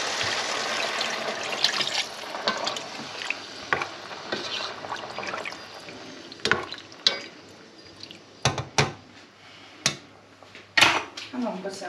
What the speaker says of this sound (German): Lösche ich das schön ab mit Wasser.